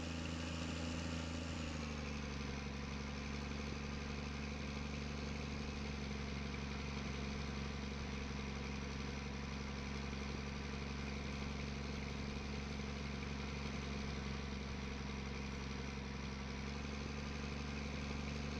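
A Versatile tractor idles during wheat straw work on a farm, a loud, steady low engine drone with a constant hum and no talk, its pitch shifting slightly at the start.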